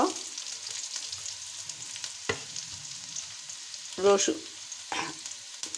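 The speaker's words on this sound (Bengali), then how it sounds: "পেঁয়াজটা গোল্ডেন ব্রাউন করে ভেজে নিচ্ছি।" Onions fry to golden brown in oil with cardamom, bay leaves and cloves, a soft continuous sizzle close by, broken by a few louder scraping stirs of the pan, with no talking.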